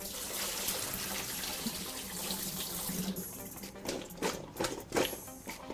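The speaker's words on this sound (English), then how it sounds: "Put the water and rinse it out." Running water splashes steadily from a tap, then breaks into irregular splashes and gurgles as vegetables are rinsed under the stream, close by.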